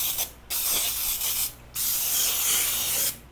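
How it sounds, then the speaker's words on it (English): Nonstick cooking spray hisses into loaf pans for baking bread in three bursts, each about a second long with short pauses between, close and fairly loud with no talking. "I'm gonna spray my loaf pans with a nonstick spray"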